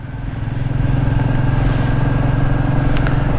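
A Royal Enfield Meteor 350 motorcycle being ridden, its single-cylinder engine putting out a steady, loud, close thumping drone that stays even throughout.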